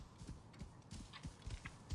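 Horse hooves in the video game Assassin's Creed Origins clip-clop in a steady walking rhythm, a few evenly spaced thuds per second, soft and close over faint ambient noise.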